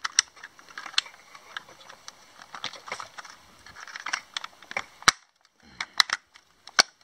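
Plastic parts of a Siege Omega Supreme transforming toy click and snap back into place, a run of quiet, close, irregular clicks and taps ending in a few sharper snaps.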